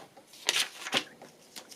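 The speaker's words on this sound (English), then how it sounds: "I think I'm just going to cut round her with my fancy scissors." Decorative craft scissors cutting round a paper figure for a journal page, giving a series of crisp, close snips and rustles at an uneven rhythm.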